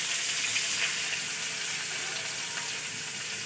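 Sliced onions frying in oil in a wok give a steady, close sizzle that runs evenly throughout, with no talking.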